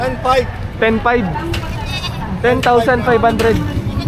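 Goats bleat repeatedly at a busy livestock market selling cattle, goats and carabao, with short wavering calls coming in bursts amid loud close talk from people bargaining.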